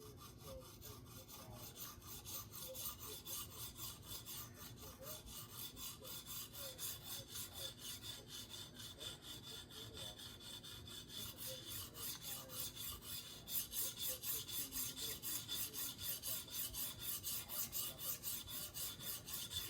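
A Leatherman Wave blade rasps against a CBN stone on a TSPROF sharpening system in steady back-and-forth strokes, close and quiet, the rhythm quickening slightly near the end.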